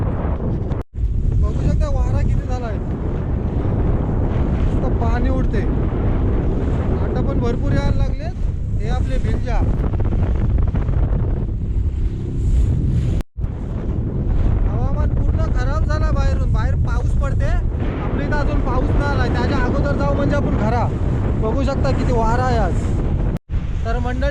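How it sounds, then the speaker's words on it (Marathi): Strong stormy wind sweeps a seashore beside a fishing boat, roaring and buffeting the microphone nonstop with waves underneath, while people talk over it almost the whole time. "वारा बघू शकता किती आला वाराचा आवाज येतच असेल"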